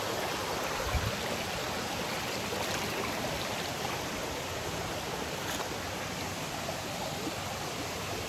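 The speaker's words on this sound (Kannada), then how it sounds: "ಇಲ್ಲೇ ನೀರು ಹರ್ಕೊಂಡು ಅಲ್ಲಿ ದೇವಸ್ಥಾನ ಹತ್ರ ಹೋಗ್ತದೆ." Steady rushing water from a small waterfall and stream flowing near a temple, a continuous broadband wash that stays even and close throughout with no talk.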